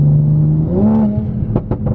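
A Mk5 Toyota Supra in sport mode revs and drones loudly, its pitch rising, then a quick series of sharp exhaust pops crackles at the end.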